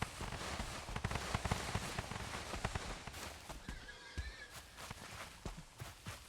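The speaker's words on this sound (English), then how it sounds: "I hear the screams of a baby pig" A baby pig squeals in the video game Valheim, a shrill wavering cry that rises out of a busy wash of game noise with clattering, footstep-like thuds.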